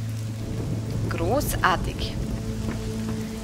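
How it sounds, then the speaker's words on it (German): Heavy, steady rain pours down in the video game Risen 2: Dark Waters, a constant hiss under game music, while someone briefly speaks over it. "Wieder im strömenden Regen."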